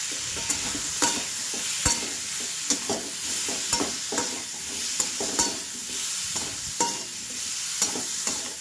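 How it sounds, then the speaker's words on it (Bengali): Mango chutney stirred in a pan over heat, a steady sizzle broken by repeated scraping strokes of the spoon at an even pace, close and clear with no talking. "চাটনিটা একটু নাড়াচাড়া করে জল দিয়ে দেবো।"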